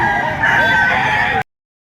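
A rooster crows in a long drawn-out call at a busy chicken market where roosters are sold, loud and close, with a faint murmur of voices and market bustle underneath.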